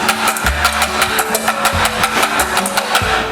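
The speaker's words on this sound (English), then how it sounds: "Let me whisk these. First, we're going to whisk them. Break up those egg yolks." An electric mixer whisks egg yolks for crème brûlée, giving a steady motorized whir with a rough, rattling edge that runs continuously for a few seconds.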